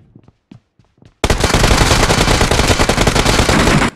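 Loud, close automatic gunfire in a battle royale game: a few quiet thuds, then a sustained rapid burst of shots lasting a few seconds before stopping abruptly.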